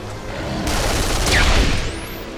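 Rapid burst of gunfire from a swinging gun in the video game Duke Nukem Forever, a loud dense fusillade with booming low impacts and a whizzing high streak near the end.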